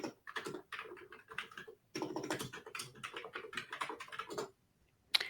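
Fast clattering keystrokes on a computer keyboard in quick irregular bursts with brief pauses, close and fairly quiet.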